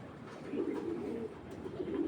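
A male racing pigeon coos in low, rolling bursts close by, its throaty murmurs repeating steadily over quiet background noise.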